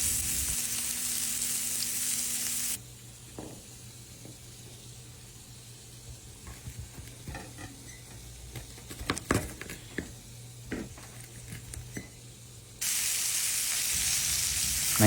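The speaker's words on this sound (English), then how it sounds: "Over medium-high heat, you're gonna sear your steaks." Steak bites searing in a pan over medium-high heat, a steady sizzle that drops quieter after a few seconds, with scattered clinks and scrapes, before loud frying returns near the end.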